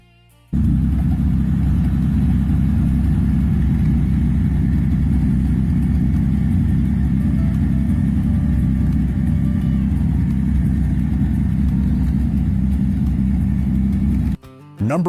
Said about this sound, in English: The exhaust system is made of stainless steel with glass pack mufflers, giving the car a distinctive rumble.